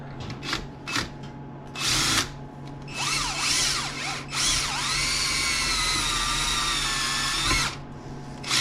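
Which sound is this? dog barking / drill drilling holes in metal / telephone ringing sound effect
drill drilling holes in metal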